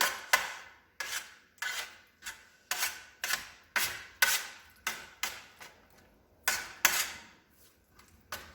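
Spoon scraping and knocking through tandoori paste of Kashmiri chili and salt in a bowl, a rhythmic series of about a dozen close, crisp rasping strokes with short gaps between them.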